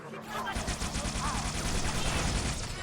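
Rapid gunfire in Halo 3 aimed at a Brute, a dense continuous burst of shots that runs almost the whole time under game noise.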